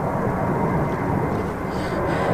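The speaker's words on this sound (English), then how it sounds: "Can you hear that plane?" A propeller airplane passing overhead above open water near an inflatable fishing raft, a steady broad droning roar that holds loud and continuous throughout.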